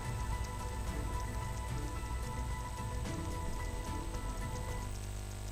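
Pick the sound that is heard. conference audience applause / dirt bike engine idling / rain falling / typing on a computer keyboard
rain falling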